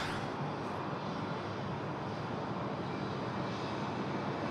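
A jet departs Sydney Airport at night, its engines a broad, steady roar heard from a distance, with no voices.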